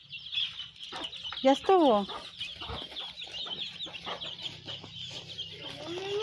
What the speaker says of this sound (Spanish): Ahí están los pollitos.